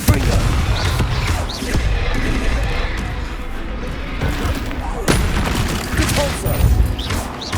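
Fiery Confringo spell blasts burst in the middle of a Hogwarts Legacy battle, with booming impacts and crashes piling up continuously and a sharp, loud hit near the end.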